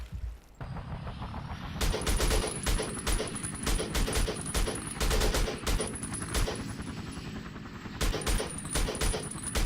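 Sustained automatic fire from a Degtyarev copy in Battlefield Vietnam, loud, close bursts of rapid shots hammering almost continuously over several seconds after a brief quiet start, with battle noise underneath.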